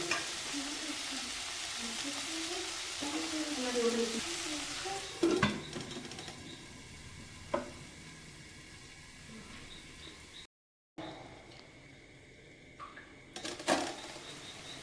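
Cabbage sautéing in a pan, a quiet low sizzle with intermittent stirring scrapes and a few sharp utensil knocks, fading softer in the second half after a brief gap.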